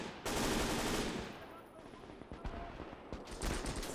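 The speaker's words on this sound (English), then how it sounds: "MG 34! Feuer!" MG 34 machine gun firing in the Gates of Hell war game, a loud close burst opening the moment and trailing into scattered gunfire and battle noise for several seconds.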